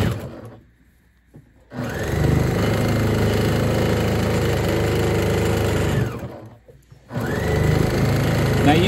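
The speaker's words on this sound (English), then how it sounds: "come back and give it another stitch along the bottom" Sewing machine running steadily as it stitches along the bottom seam of a shopping bag made from a T-shirt, a loud continuous motor whir in two long bursts split by a short pause, with no talk.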